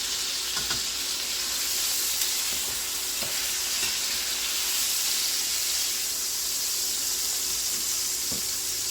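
Beef shanks sear in a hot pan with a loud, dense sizzle and hiss that runs unbroken from start to finish. Occasional soft knocks of stirring or turning sound over it, and no one speaks.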